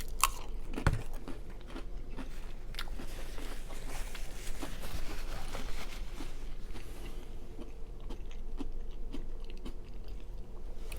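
Crunchy Frito corn chips being bitten and chewed in chili cheese Frito pie, a close, steady run of soft crunches and mouth sounds with no talking.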